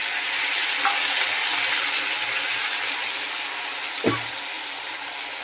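Poppy seed paste and green chilli sizzling in a pan with fried vegetables, a steady broad frying hiss throughout with a brief stir or clatter near the end and no talking.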